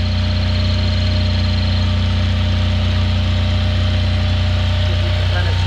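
Generator running inside a garage, a loud steady low engine drone with constant hum and vibration, unbroken from start to end.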